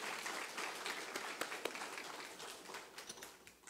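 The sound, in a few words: church congregation applauding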